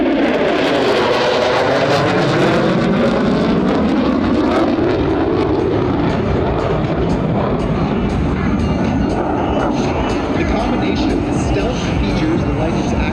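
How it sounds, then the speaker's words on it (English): Loud, sustained roar of an F-35B Lightning II fighter jet making a fast pass at an airshow, with a sweeping pitch shift as it approaches and recedes, a public-address announcer talking over it throughout. "Get your cameras out now as the F-35 will be approaching the sound barrier from the left."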